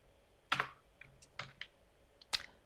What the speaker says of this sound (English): I don't know why I'm typing like this.